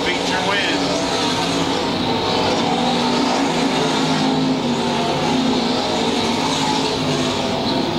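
Factory stock race cars roar around Lakeside Speedway in a loud, continuous wall of engine noise during an A main feature, with an announcer's voice running over the din.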